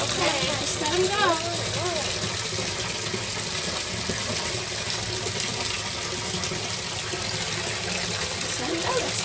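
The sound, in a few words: bath bomb fizzing and bubbling in bath water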